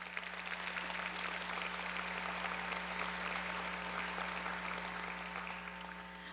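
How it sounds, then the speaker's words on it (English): Sustained, even applause from an audience honoring students at a 50th-anniversary celebration of a cultural center, filling the room steadily over a low constant hum. "Give them a round of applause."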